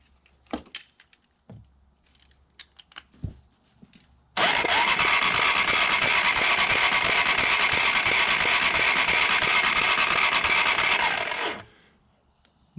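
A 1987 Yamaha Big Bear 350cc 4x4 ATV with fire damage and no spark is cranked over. Faint clicks come first, then the starter whirrs loudly and steadily for about seven seconds before stopping abruptly.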